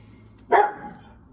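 A house dog lets out a single sharp bark, close and loud, with a short fading tail against a quiet room.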